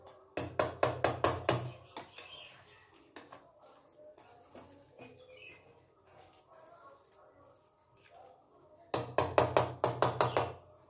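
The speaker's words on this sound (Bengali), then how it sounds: "এই বোলের এক বোল আমি সুজি নিয়ে নিচ্ছি, আর এতে দিয়ে দিচ্ছি টক দই, দিয়ে ভালো করে এটা মিক্সড করে নেব" Semolina and sour curd are stirred together in a bowl for doi dhokla, giving quick rhythmic scraping and clattering strokes in a burst at the start and again at the end, with quieter, scattered handling sounds between.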